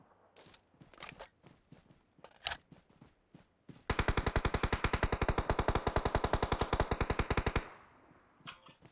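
Gunfire on Sanhok in PUBG Mobile: a few scattered single shots, then a long, rapid, evenly paced automatic burst lasting several seconds. The burst is loud and close, and nobody speaks.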